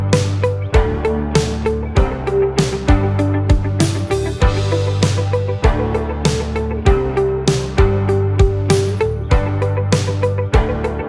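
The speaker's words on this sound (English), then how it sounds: "All right, I got one more example for you, and this one is a lead guitar." Lead guitar processed with the Dime transient and tonal plugin plays a loud, rhythmic run of sharp plucky notes with punchy attacks and sustained pitched tones, steady throughout with no talking.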